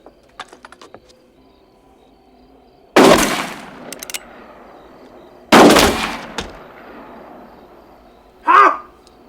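Two loud, booming blasts from a double-barrel shotgun in a horror film, a few seconds apart, each ringing out with a decaying tail, between scattered small clicks and rattles and a short final burst.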